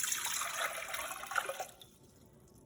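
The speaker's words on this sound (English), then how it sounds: "Next, we have 4 cups of water that I'm gonna pour into this pot." Four cups of water are poured into a cooking pot, making a close, splashy stream that runs for about a second and a half, then fades into quiet, followed by a sharp clunk at the end.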